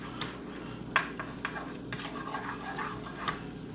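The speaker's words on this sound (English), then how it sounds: "People are probably cursing at me too when I use metal on my cast iron skillet" A metal utensil stirring fish roe in a cast iron skillet, with scrapes and light clinks over a steady sizzle of frying, close and low in level.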